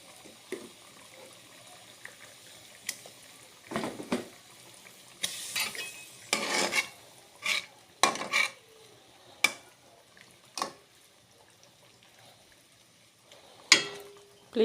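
Pabda fish dropped into a pan of cooked spice masala, giving soft irregular sizzles, clinks and stirring scrapes, fairly quiet and close, with scattered sharp ticks of the utensil against the pan.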